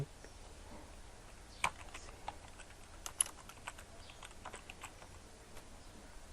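Keys on a computer keyboard are tapped in short, uneven bursts of faint clicks while typing in Microsoft Word, quiet and close with pauses between strokes.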